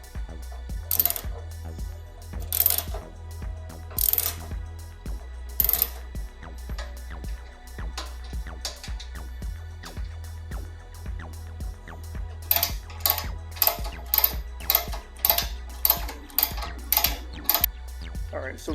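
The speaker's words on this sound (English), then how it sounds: "we got the side bolts all tightened up" Bolts being tightened on a Jeep JKU rear frame-chop bumper, a ratchet or impact tool clicking and whirring in short repeated bursts with metallic clinks between them, close and clear.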